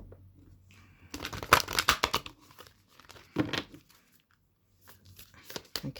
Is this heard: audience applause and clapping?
no